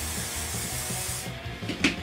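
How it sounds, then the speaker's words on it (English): Hairspray hisses from a can onto fine hair during a side-part comb-over styling. The steady airy spray runs over a constant background rumble and then stops, followed by a brief faint clink near the end. "I do throw in the hairspray. All you really need to do is just spray this down"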